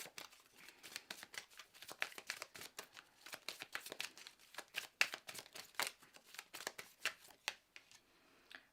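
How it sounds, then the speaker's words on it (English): A tarot card deck is shuffled by hand in repeated quick bursts of crisp, papery riffling and flicking, close and fairly quiet, with irregular short pauses and no talking. "I don't know why I'm shuffling this deck again."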